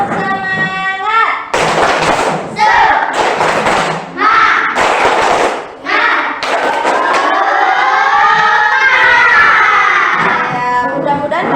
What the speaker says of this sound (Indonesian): Bisa tepuk semangat?